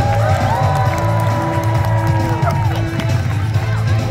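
Audience cheering and whooping at a live stunt show at Universal Studios Hollywood, a loud steady crowd roar with yells over a low rumbling music bed and a few tonal sweeps.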